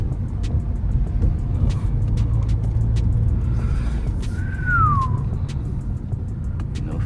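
Steady road and engine noise from inside a Honda Accord cruising along, a broad constant rumble with faint ticks and one brief rising-falling whine midway; no one speaks.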